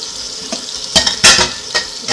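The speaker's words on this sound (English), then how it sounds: "we're going to drain them in the sink." Water runs and splashes in a kitchen sink as oven-cooked garden beets are drained, with intermittent loud rushing bursts over a steady hiss and no talking.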